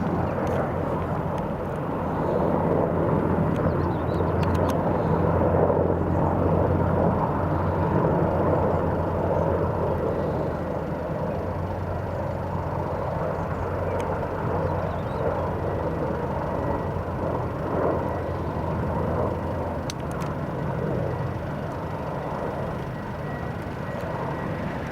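A second Apache helicopter flies at an airport, a sustained low engine and rotor drone that swells slightly early on and holds steady for the whole stretch, with no talk.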